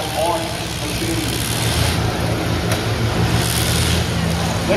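Combine harvester engines at a 2022 combine demolition derby at the Columbiana County Fair in Lisbon, Ohio, making a steady low rumbling drone beneath an announcer speaking throughout.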